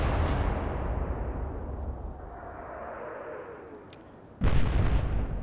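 Heavy naval guns firing in the warship game Atlantic Fleet, a deep booming salvo that rumbles and decays over several seconds, then a second sharp blast punches in loud and close near the end.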